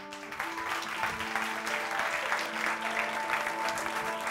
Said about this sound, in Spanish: a todos ellos con un fortísimo aplauso